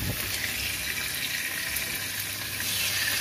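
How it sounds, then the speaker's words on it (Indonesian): Salted fish frying in reused oil over medium heat, a steady soft sizzle and crackle throughout, without talk. "lanjut menggoreng ikan asin ya, seperti ini bekas menggoreng tahu"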